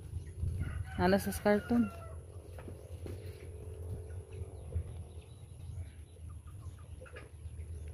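Newly purchased chickens clucking and squawking close by, a burst of loud calls early on followed by scattered softer clucks, with people talking around them.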